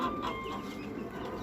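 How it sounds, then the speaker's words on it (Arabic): A broody hen clucks quietly and steadily, a soft low murmuring cluck close by with faint background noise and no speech. "فكركت الدجاجة"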